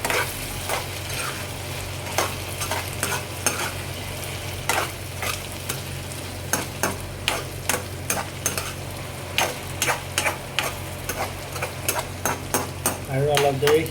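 Food being stirred in a cooking pan, with repeated sharp scraping and knocking of a utensil against the pan at an uneven rhythm over a steady sizzle, with occasional talk in the background.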